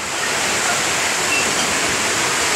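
A strong, deep river current rushing past, a loud, steady broadband roar of flowing water with no breaks, close by and with no voices.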